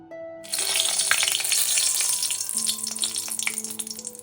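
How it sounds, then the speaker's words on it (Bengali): Dried red chillies hit hot oil in a kadai with a sudden loud hiss that settles into a steady, close crackling sizzle. "তেল গরম হয়ে গেছে। এখানে আমি শুকনো লঙ্কা দিয়ে দিলাম প্রথমেই"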